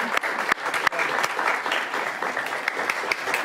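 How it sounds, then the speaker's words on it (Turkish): Audience applause welcoming the mayor at a televised program, steady dense clapping from a crowd throughout, close and moderately loud with a few sharp individual claps standing out. "Kocaman alkışlarınızla ben başkanımızı yerine davet etmek istiyorum."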